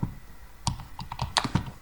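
Computer keyboard being typed on in short irregular bursts of clicky keystrokes, close and fairly quiet, with no voice over it.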